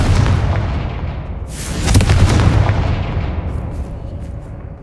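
A Confringo fire spell explodes in the Hogwarts Legacy video game, a loud booming blast that swells and rolls before slowly fading, with no talk over it.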